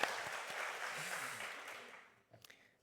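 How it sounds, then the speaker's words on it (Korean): A church congregation applauds during a Sunday service, a dense burst of clapping that fades out after about two seconds, followed by a few scattered claps. "우리 방송실 위해서 박수 한번 보내주세요."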